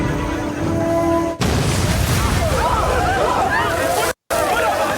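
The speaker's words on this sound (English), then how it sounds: "So the explosion you heard, if you're listening to this on your audio, is one of the soldiers just threw a mine explosive into the field." A mine explosive thrown into a grassy field by a soldier in a Rambo film goes off with a sudden loud blast. A long rumbling, crackling roar follows, mixed with crowd voices and scattered shouts.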